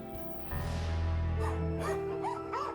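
Shelter dogs in Ukraine's Mykolaiv region bark, howl and whimper together in a sustained, close chorus that swells after a brief quiet start.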